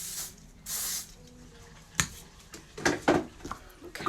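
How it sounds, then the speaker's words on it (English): Short hissing bursts of aerosol hairspray, one longer spray near the start followed by a few quick puffs, close up, with faint handling sounds. "give it a light spray with my aerosol spray"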